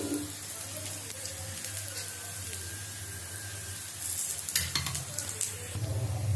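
Aloo paratha, a potato-stuffed flatbread, frying in oil in a pan with a steady close sizzle that swells louder and crackles more near the end, with no talking.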